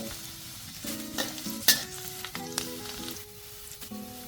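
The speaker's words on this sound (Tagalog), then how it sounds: "Sa mainit na kalan, bawang, mas maraming bawang, mas masarap." Garlic sautéing in oil in a pan on a hot stove, a continuous sizzle with repeated spatula scrapes and clanks against the pan, close and without speech.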